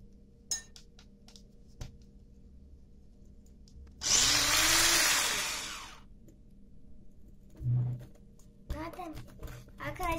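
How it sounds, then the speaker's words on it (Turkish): An electric blender whirs loudly through cocoa cake batter with baking powder and vanilla in a home kitchen, one sustained burst of about two seconds, with light clinks and a child's chatter around it. "Blender'la geçiriyorum."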